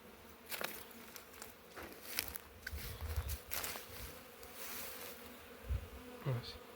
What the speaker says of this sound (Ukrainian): Як бачимо, біля кожного вулика є активний обліт.